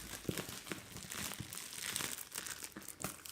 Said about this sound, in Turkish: Zaten en çok sevdiğim ses de budur poşeti yırtmak.